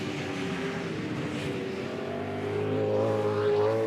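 V8 Supercars racing at Eastern Creek in 2004: loud, continuous engine drone with a harmonic whine that climbs in pitch as the cars accelerate, close and sustained, with no speech over it.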